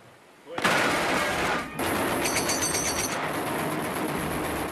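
Gunfire in a World War II film battle between American and German soldiers, a loud sudden onset of shots and blasts that keeps up as a dense continuous roar of firing with rattling bursts.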